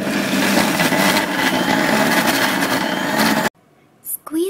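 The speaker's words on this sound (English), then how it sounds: "Grind everything first into a coarse paste." A blender grinds nutritional yeast and raisins into a coarse paste, running loud and steady for about three and a half seconds before cutting off, followed by a brief quiet and a short burst of sound.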